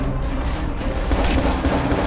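Police gunfire in the video game Watch Dogs: a rapid volley of sharp shots and bursts rattles over a continuous loud game background.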